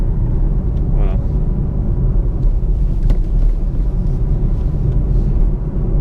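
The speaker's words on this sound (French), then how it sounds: "La voiture est froide, on va essayer de la faire tourner un petit peu avant que je vous montre comment ça pousse." A cold Chevrolet Camaro SS with a 453 hp V8 idles with a steady, deep low rumble that stays loud and even throughout, with a faint brief chirp near the start.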